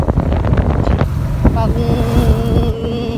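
Strong wind buffets the microphone in Leon, a steady low roar and gusting rumble running throughout, with faint voices underneath.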